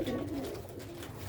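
Sialkoti pigeons on a rooftop coo in a low, soft, continuous burble, a single steady murmur lasting just over a second with no talk over it.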